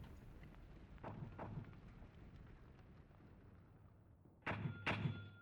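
Mortars firing high-explosive rounds in the Graviteam Tactics war game: several muffled, distant thumps spaced apart, with a louder double report near the end over a low rumbling background.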